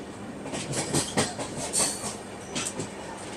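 Passenger train running on rails in India, heard from nearby as a steady rumbling roll with rhythmic clickety-clack wheel beats recurring through the sound.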